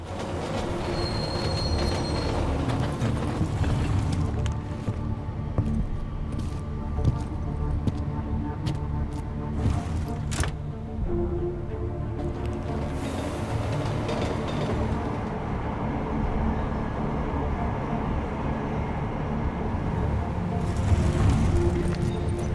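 A train ride in the video game Deus Ex: Mankind Divided: continuous rumbling rail noise with squealing wheels and clacking joints, loud and close from start to finish, with a few sharp metallic clicks.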